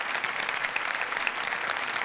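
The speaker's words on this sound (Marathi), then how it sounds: "सरांसाठी एकदा जोरदार टाळ्या." A studio audience on the set of a Marathi comedy show breaks into loud, dense applause, a continuous close wash of many hands clapping with no pause.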